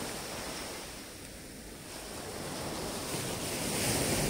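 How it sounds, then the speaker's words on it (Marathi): Sea waves roll and break at Keri Beach near where the Terekhol river meets the ocean, a steady broad surf wash mixed with gusty wind buffeting the microphone, continuous and fairly loud with no voices. "समुद्रातल्या लाटा"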